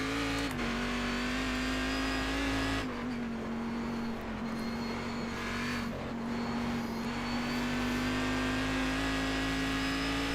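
A Cadillac CTS-V.R race car engine in iRacing at Sonoma drones loud and steady from the cockpit, its pitch holding high, dipping briefly, then climbing again through the run.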